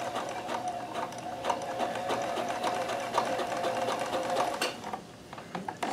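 A Kenmore 158.1914 sewing machine chain stitching at its longest stitch length hums steadily up close, with rapid rhythmic needle clatter that slows and stops near the end; no one talks.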